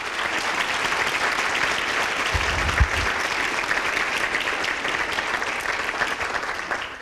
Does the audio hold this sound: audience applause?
yes